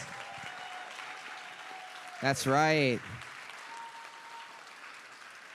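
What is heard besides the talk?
audience applause for a panel speaker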